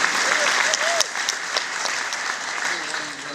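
Audience at a Comic-Con NASA space panel breaks into loud applause, a dense burst of clapping with a few sharp claps standing out and faint voices mixed in.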